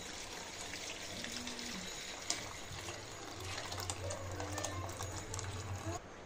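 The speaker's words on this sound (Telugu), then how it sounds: "దేక్షాని స్టవ్ మీద పెట్టుకొని ఈ వాటర్ని యాడ్ చేసేయాలండి" Water poured into a biryani pot with masala sitting on a stove, a quiet splashing flow beneath low background sounds and a faint hum.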